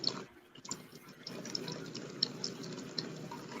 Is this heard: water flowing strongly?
yes